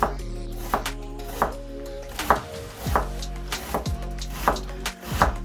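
Knife chopping vegetables finely for okonomiyaki on a board, steady repeated sharp chops close up, roughly one every half second to second, over a constant low hum.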